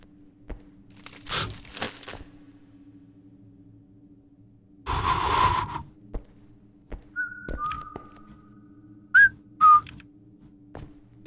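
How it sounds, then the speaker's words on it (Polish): Several short whistled notes in a video game near the end, each a bright rising pitch, following a stretch of low background hum and a burst of crunchy noise. "Też umiem gwizdać."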